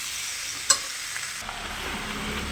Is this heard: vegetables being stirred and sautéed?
yes